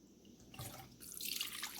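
Apple cider vinegar pours into a container, a short splashing stream that starts partway through and builds, with dripping sounds close by.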